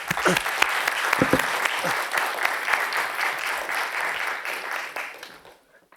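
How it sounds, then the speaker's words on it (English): A workshop audience applauds city commissioners, warm continuous clapping from a room full of people that carries for several seconds and then fades out to near silence at the end. "Let's give our commissioners a round of applause for great leadership and efforts here in the city."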